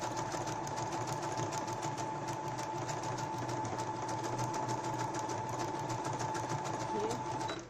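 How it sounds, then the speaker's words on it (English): A sewing machine runs at a steady, fast, even rhythm while zigzag stitching over a cord on fabric to gather it, a close continuous mechanical whir with no talk over it. "Then you begin to sew."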